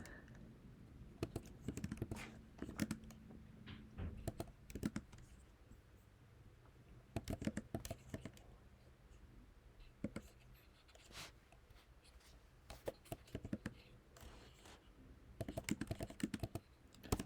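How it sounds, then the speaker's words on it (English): Slow, uneven typing on a computer keyboard, with scattered bursts of key clicks separated by pauses, fairly close and alone. "Oh, I'm typing this really slow."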